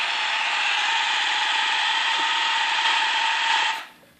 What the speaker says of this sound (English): that noise you hear is it trying to pump all of the water out of its ballast